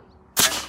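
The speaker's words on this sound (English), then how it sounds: "So they have an air cannon." An air cannon at a golf tournament fires a golf ball, one sharp loud pneumatic blast that hisses briefly after a quiet moment.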